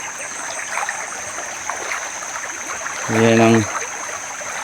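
A clear creek flows through farm fields with a continuous soft rushing and trickling; someone speaks briefly partway through.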